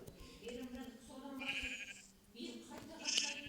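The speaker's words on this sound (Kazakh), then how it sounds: "Қойларым көп." Sheep in the video game Minecraft bleat several times in a row, short nasal cries spaced about a second apart, fairly quiet, with a voice talking at times.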